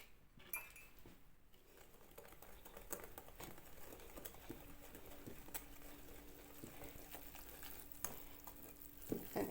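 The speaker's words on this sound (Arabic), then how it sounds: "وهنقلب بقى الخليط مع بعض كله" Date cake batter of flour and baking powder being stirred, a soft, continuous scraping and swishing that stays quiet and steady throughout.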